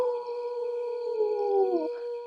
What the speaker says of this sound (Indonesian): Itu jelas suara serigala.